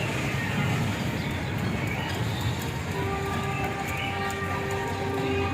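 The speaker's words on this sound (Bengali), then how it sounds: "এই যে দেখছো ট্রেন" A train rolls past close by in Sariatpur, Bangladesh, with a steady loud rumble and rhythmic wheel clatter that holds for the whole stretch, a faint hum joining partway through.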